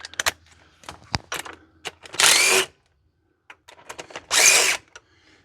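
A power drill or impact tool spins bolts out of a car during a coolant leak repair, two loud whirring bursts of about half a second each, separated by clicks, clanks and handling noises.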